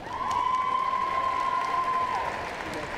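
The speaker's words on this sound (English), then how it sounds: "Ladies and gentlemen, one last round of applause for our seniors, Jenna Currier, Jesse Rietzma, Tia Hockenhal" A crowd in a gym at a men's college basketball senior day applauds and cheers in a steady roar, with a sustained tone held over the clapping before the noise eases slightly.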